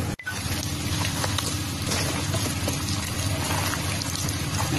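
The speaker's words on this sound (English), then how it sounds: "Now we mixing the eth conducted enhancing compound powder in 1:1 ratio of water and backfill soil." Water pours steadily into earthing-enhancing mineral compound powder and backfill soil being mixed at a 1:1 ratio for an OBO Bettermann earthing installation, a continuous close splashing trickle after a brief knock at the start.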